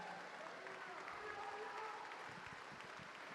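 A church congregation claps for several seconds during a Spanish-language sermon service, a dense, steady wash of many hands with some voices mixed in.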